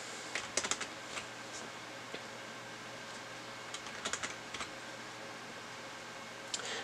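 Scattered bursts of keystrokes on a computer keyboard as a username and password are entered, soft clicks in uneven clusters with pauses between them over a faint background hiss.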